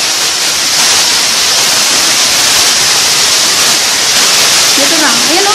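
Water rushing steadily through a cave that once served as a hideout, a loud, unbroken wash of noise filling the space, with a faint voice briefly rising near the end.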